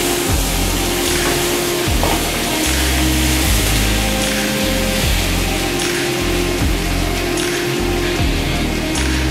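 Potatoes, pointed gourd and spices for potol curry frying and sizzling in a little oil, a steady close hiss running throughout with a low rhythmic hum underneath.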